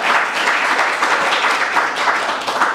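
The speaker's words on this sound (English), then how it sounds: "You can go ahead and give it a round of applause." An audience at a Cleveland Book Week 2022 author event breaks into loud, continuous applause, a dense wash of many hands clapping at once that holds steady throughout.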